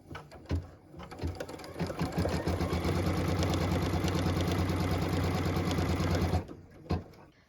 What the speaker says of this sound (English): What we're stitching now is the tack down line for piece number 3.